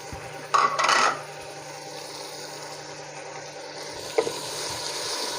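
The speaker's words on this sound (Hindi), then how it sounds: "अब कीमे को थोड़ी देर के लिए इसमें फ्राई करेंगे" Minced keema frying with ginger garlic paste in a pan, a burst of sizzling and stirring clatter near the start, then a quieter steady hiss with one more brief scrape, close and moderately loud without speech.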